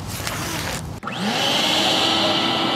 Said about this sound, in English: Using a shop vacuum, which then funnels bees into a hive box